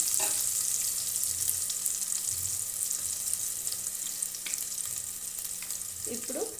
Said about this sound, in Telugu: సో మనకి కొంచెం కలర్ వచ్చేంత వరకు మనం ఆనియన్స్ కూడా బాగా ఫ్రై చేసుకోవాల్సి వస్తుంది.